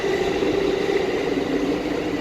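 A New York 7 subway train running out of Hudson Yards toward Queens gives a steady low rumble with a droning hum, heard from on board as it rides the track, continuous and fairly loud with no voices.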